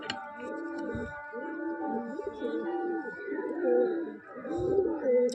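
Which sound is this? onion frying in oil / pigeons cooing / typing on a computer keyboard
pigeons cooing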